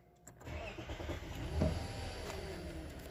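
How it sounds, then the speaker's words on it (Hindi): A Lexus LS460 engine cranks and catches, then settles into a quiet, steady idle, heard up close in a workshop after a steering fault repair. "अब मैं गाड़ी स्टार्ट करता हूँ और देखता हूँ।"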